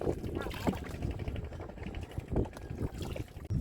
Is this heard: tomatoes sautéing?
no